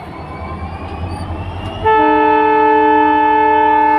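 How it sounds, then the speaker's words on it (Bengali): The Padatik Express sits with a low diesel rumble, then its horn blares loudly and continuously from close range, a sustained harmonic blast that holds to the end. "সাতাত্তর আপ পদাতিক এক্সপ্রেস সময় কটা বাজে প্রায় ন মিনিট আগে ট্রেনটি ছেড়ে দিল"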